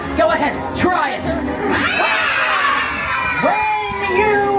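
An audience of children screams and shouts together, a loud sustained crowd roar with overlapping rising and falling yells throughout.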